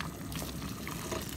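Boiling broth is poured from a pot onto meat for a taro stew, a steady rushing, bubbling splash of liquid heard up close with no talking.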